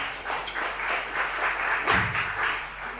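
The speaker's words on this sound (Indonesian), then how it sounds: "Tepuk tangan buat panitia." Applause for the organizing committee at a student organization inauguration ceremony, a steady wash of clapping from a crowd lasting a few seconds at moderate loudness, with no voices over it.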